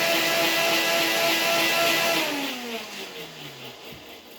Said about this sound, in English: Now, we will start up our old blender here.